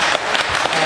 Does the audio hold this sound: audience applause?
yes